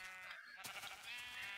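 Sheep bleat loudly and close during shearing in a farm shed, a sustained harmonic call following a brief quiet moment, with no talk over it.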